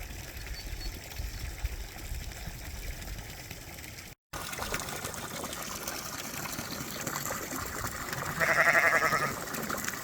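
Sheep and young lambs grazing outdoors, with faint scattered bleats over a steady rushing wash of background noise, the calls growing a little louder near the end.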